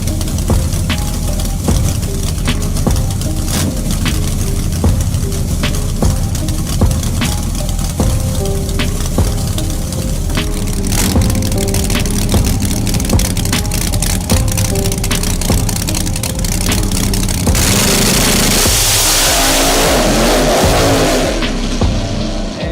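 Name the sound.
car engine accelerating on a test run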